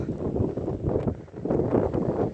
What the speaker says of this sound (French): il y a du vent là au niveau de la montagne